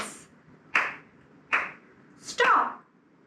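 Children playing a Simon Says game at an early childhood centre clap their hands in a few sharp, separate bursts spaced under a second apart, with a voice speaking between them.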